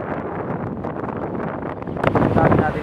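Strong wind buffets the microphone outdoors at Dingalan, a rough continuous low rumble that grows louder and gustier toward the end.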